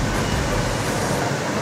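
A train at a station terminal, loud steady rolling rumble and broadband rail noise close by, with no one talking.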